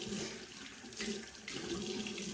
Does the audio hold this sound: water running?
yes